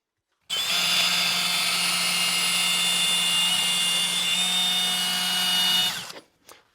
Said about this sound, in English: That way I can drill all the way through to the outside